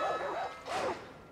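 A dog in the Far Cry 5 video game lets out two short, whiny yips or barks, moderately quiet against a soft game background, with no talking over them.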